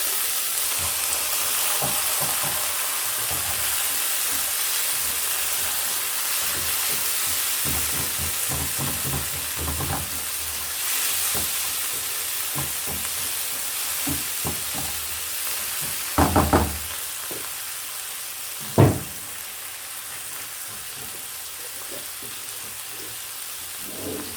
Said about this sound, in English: And then I add my tomatoes.